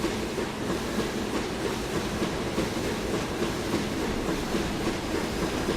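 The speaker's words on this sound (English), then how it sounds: "I hear trains but cannot see them" A Class 101 diesel multiple unit rolling along the Weardale line, a steady, continuous rumble of wheels and engine throughout with no talk.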